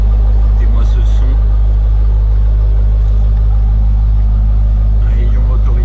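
Jeep Grand Cherokee Trackhawk engine running, a loud, deep, steady rumble that sits heavily beneath faint background talk throughout.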